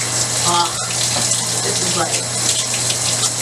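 Tap water runs steadily into a sink during a hair wash with a lavender-mint herbal shampoo, a continuous close splashing hiss with a faint low hum beneath and brief soft sounds of someone moving.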